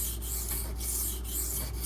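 A knife edge scraped back and forth across a hard sharpening stone, giving a close, gritty, scratchy rasp in a steady rhythm of about four strokes, with no voices.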